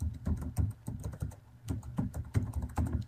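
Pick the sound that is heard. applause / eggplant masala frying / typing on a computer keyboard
typing on a computer keyboard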